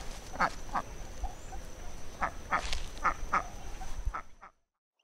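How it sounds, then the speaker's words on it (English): A Muscovy duck gives soft, breathy, hoarse calls, a handful of short hissy bursts spaced irregularly at moderate distance over a faint background hum before fading out. "Muscovy duck."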